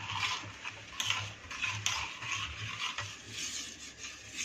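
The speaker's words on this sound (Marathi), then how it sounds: "आपण हे व्यवस्थित मिक्स करूया" A spoon stirs a mixture of jaggery, rice flour, salt and green chilli paste in a bowl, giving soft repeated scrapes and light taps, close and quiet, with no voices.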